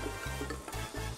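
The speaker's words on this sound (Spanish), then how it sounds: "Esto ya empieza a hervir." A pot of bean stew starts to boil up close, giving a dense bubbling, sizzling roll broken by short stirring pauses. No one speaks.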